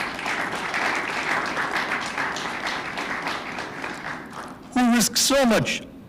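An audience at a council of ministers meeting claps steadily in recognition of health workers, a dense sustained round of applause that fades before a single voice begins speaking near the end.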